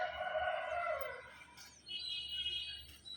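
A rooster crows in the distance, its long call fading out, followed by softer bird calls against a quiet outdoor background.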